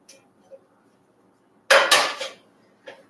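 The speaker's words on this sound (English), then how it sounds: "I'm going to find a pan and put some butter in it" A pan is pulled out for making pancakes with one loud clattering, scraping burst of metal against metal, set between quiet gaps and a few faint knocks.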